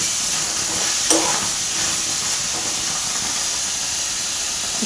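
Green chillies and a tomato fry in a hot pan, a steady close hiss with a brief sharper sizzle early on, continuing evenly for several seconds without any talk.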